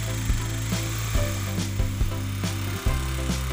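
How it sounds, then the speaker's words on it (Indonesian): A power drill bores slowly into ceramic floor or wall tile, giving a steady close whirring broken by short clicking catches and grinding rasps. "Setelah terpasang, kita bor di tanda yang sudah kita tandai."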